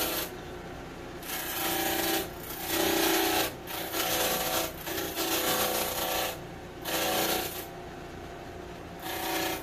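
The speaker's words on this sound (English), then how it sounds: "I'm going to just cut in a little bit of a bevel on the end" A hand saw cuts a bevel into the end of a wooden spear using a 45 degree guide. The close, steady rasping strokes come in bursts separated by brief pauses, with no talking.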